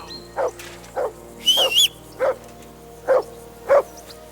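Henry's dog in the video game Kingdom Come: Deliverance II lets out a run of six close, loud barks at a regular pace, with a brief high bird-like chirp in the middle.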